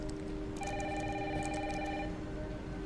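A telephone rings indoors with a steady electronic trill lasting a couple of seconds, heard over the constant loud hiss of heavy rain pouring outside.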